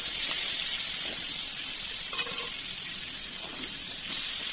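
Chopped onion goes into hot oil with whole garam masala for a home-style mutton curry, giving a steady, bright sizzling hiss that carries on evenly throughout, close and fairly loud.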